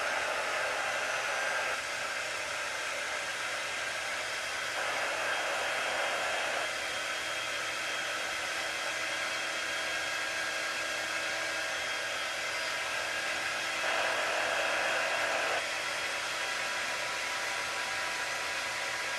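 A hair dryer blows steadily on an Aztec eagle craft piece to dry it, a loud, close, continuous whooshing roar that shifts slightly in pitch as it moves, with no talking.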